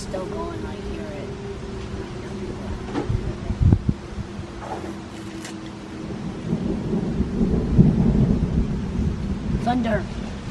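Low rumbling thunder rolls in from a distance during a summer storm, with a sharper crack midway and a second swelling rumble, over steady rain and some faint talk.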